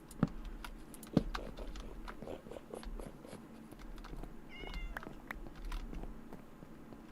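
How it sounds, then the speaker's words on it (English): A cat meows in the Minecraft video game, a short plaintive call rising midway through, set against a steady game ambience with faint clicks and keyboard-like taps. "I think I hear a cat."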